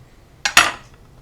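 A kitchen knife slices the stems off homegrown jalapeño peppers on a cutting board, two quick close cuts landing less than a fifth of a second apart, with the second louder, then a short fade into quiet.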